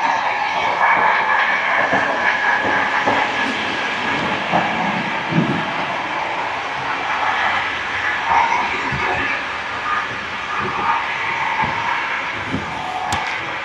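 Inside a first-class carriage of a Moroccan train running from Casablanca to Fez, a loud continuous rumble and hiss of the moving train with occasional clacks and knocks, and no speech.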